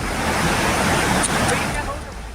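Roaring floodwater surges through a flooded village in Northeast India, a loud, steady, close rushing wash that continues without a break throughout.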